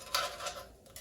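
Strips of tempeh bacon turned over in a pan with tongs, giving a few light metallic clinks and scrapes across about a second, close and moderately quiet.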